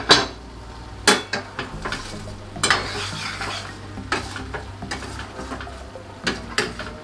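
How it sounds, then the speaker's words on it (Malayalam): A spoon stirring pacha theeyal, a curry of raw ground coconut, in a pot: irregular knocks and scrapes against the metal, some sharp and loud, over a faint background sizzle. "നമുക്ക് ഒന്നും കൂടെ ഒന്ന് ഇളക്കി കൊടുക്കാം."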